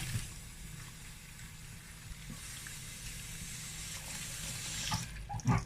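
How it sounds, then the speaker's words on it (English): Water trickles and splashes softly into a blender in a steady stream, fairly quiet and close, ending with a couple of small knocks. "I'll be adding a little bit of water."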